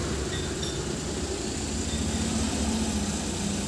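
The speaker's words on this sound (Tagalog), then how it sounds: "Ang problema na may-ari, maingay yung makina." The engine of a Suzuki mini van with a bad tensioner bearing idles noisily, a steady close rumble with a constant mechanical whir and no talking.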